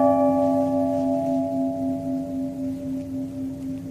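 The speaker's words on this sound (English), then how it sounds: "that's the sound of the bell" A church bell cast from donated gold and silver rings with a sustained, steady tone, its hum slowly pulsing as it decays over several seconds, with no one speaking.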